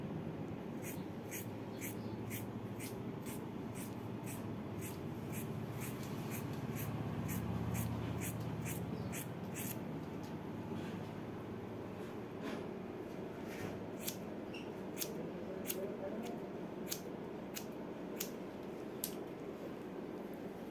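Scissors cutting hair in layers, a run of crisp, quick snips repeating at an even pace, close and fairly quiet over a low room hum.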